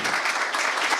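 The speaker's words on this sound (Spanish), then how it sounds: "Por favor, denle un fuerte aplauso a Erika también." A crowd applauds a panelist at a panel event, a dense, even burst of clapping filling the brief moment without voices.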